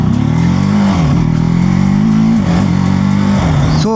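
A TVS Apache RTR 310 naked sports motorcycle engine runs loud and close, holding a steady rumbling rev with slight rises and dips throughout.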